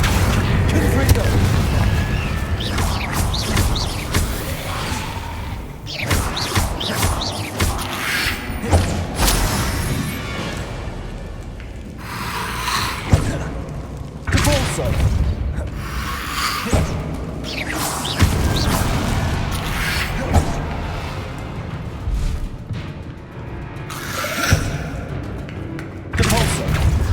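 Repeated heavy spell blasts in Hogwarts Legacy, booming thuds and bursts recurring every few seconds through dense combat sound, loud and close, with voices speaking at times.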